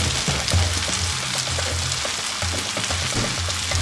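Green chili and garlic frying in a hot pan, a loud, dense, steady sizzle with faint stirring scrapes, close up and with no talk.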